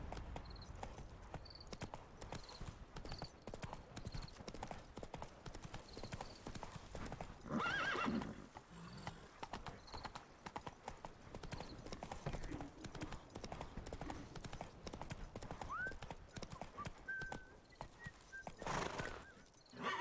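Hooves clip-clop steadily as the horse Roach gallops in the video game The Witcher 3. The rhythm is continuous and even, with an occasional neigh rising over it and a faint voice in the background.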